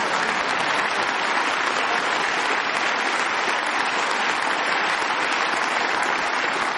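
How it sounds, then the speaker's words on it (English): Sustained audience applause, loud and dense, steady clapping throughout with no voices over it. "That was cheap applause, I know"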